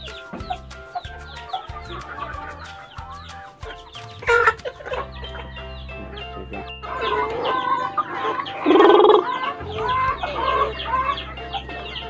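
Rhode Island Red and other heritage breed chickens in a backyard free-range flock, clucking and calling repeatedly nearby, with louder squawks and a crowing-like call midway, no talking.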